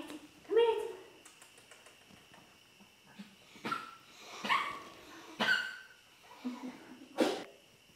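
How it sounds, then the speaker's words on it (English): A dog makes a scattered series of short barks, yips and whimpers at moderate distance, spread over several seconds amid quiet background, with people talking faintly at times. "we got a jealous dog"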